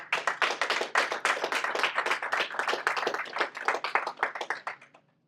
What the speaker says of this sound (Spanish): Eso sí merece un aplauso.